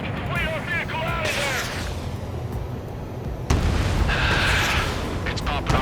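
Anti-aircraft fire and explosions in the flight combat game Ace Combat 7, a continuous rumble of booms and bursts with a louder blast partway through, while voices talk over the radio.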